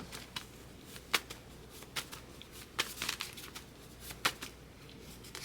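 Tarot cards are handled and shuffled nearby, with soft riffling and crisp flicks in an irregular rhythm and light, quiet card taps alone in a calm room.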